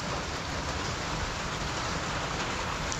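Heavy rain roars down nonstop on a farm with a fishpond, a loud, thick wash of noise close by without any pauses or voices.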